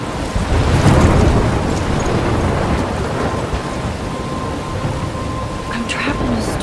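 Thunderstorm with heavy rain in the video game Life is Strange, a continuous loud roar of rainfall with low rumbling thunder swelling early on, steady throughout.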